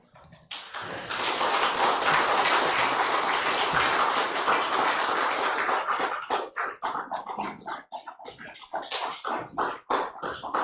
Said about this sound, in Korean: 우리 교수님 앞에 나오실 때 큰 박수로 환영해 주시면 좋겠습니다.